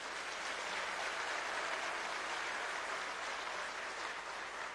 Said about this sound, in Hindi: ताली नहीं बजेगा?